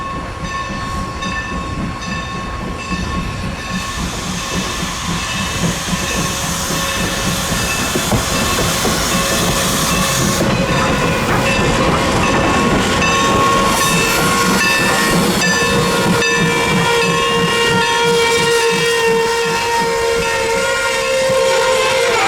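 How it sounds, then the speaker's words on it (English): Norfolk and Western No. 475 steam locomotive easing a passenger train toward a runaround track at Strasburg, with steady loud hissing and rolling rail noise, rhythmic chuffing, and a drawn-out steam whistle sounding through the middle of the passage. "The 2 p.m. Strasbourg train wasn't in too much of a hurry, as Norfolk and Western number 475 eased its train towards the runaround track."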